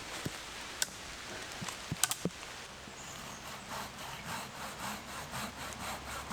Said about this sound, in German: Jetzt sägen wir mal mit der Big Boy.